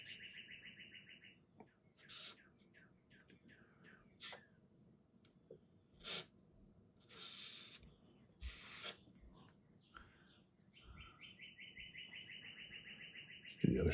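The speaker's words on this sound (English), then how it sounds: "Excuse the birds." Birds chirping outdoors, a scattered series of short bright tweets and trills at varying distance, some close and sharp, others faint, over a quiet background with occasional soft rustles.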